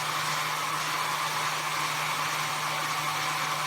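A hair dryer pointed upward runs at a constant loud whoosh with a steady motor hum, blowing air to hold a ping pong ball aloft in a home science experiment.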